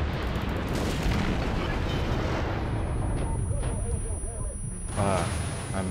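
Battleship main turret guns firing in World of Warships, a heavy rumbling boom that fills the clip with low roar and fades into sea ambience, with someone talking over it.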